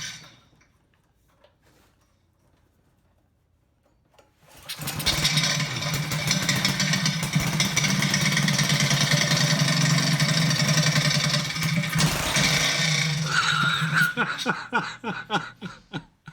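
A Harbor Freight Predator 224cc small engine fitted with performance mods starts after a quiet pause and runs loud and close with a buzzing, rapid-fire exhaust, then is throttled down and sputters as it slows, with brief laughter near the end.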